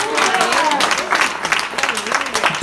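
Congregation at an outdoor street worship service claps in a dense, uneven patter under a speaking voice, with bursts of louder clapping throughout.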